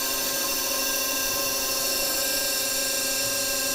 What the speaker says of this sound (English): then you start to redirect the drill